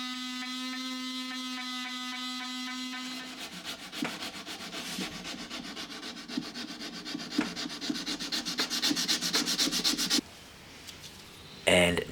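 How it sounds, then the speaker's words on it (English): A wood tabletop on an Art Deco vintage bedside table is lightly sanded by hand with 180 grit sandpaper, giving close, rhythmic rubbing strokes that continue for several seconds after a steady tone at the start. "I now sand very lightly using 180 grit just to clean the tops right off"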